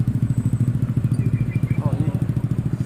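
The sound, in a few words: motorcycles in a wedding procession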